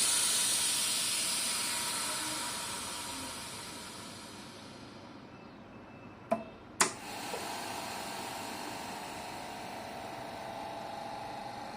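Air pressure hisses from a Sunshine S-959N OCA laminating machine, loud at first and fading over several seconds, then two sharp clicks and a steady low mechanical hum.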